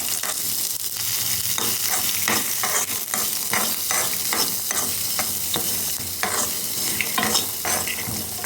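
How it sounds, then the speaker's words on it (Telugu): Boiled chickpeas sizzle in hot tempering oil in a pan while a spoon stirs them, giving rhythmic scraping strokes over a steady crackling fry. "ఇంకా తాలింపు పెట్టుకోవడమే"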